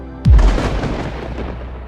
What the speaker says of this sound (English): More thunder crashed into the audio.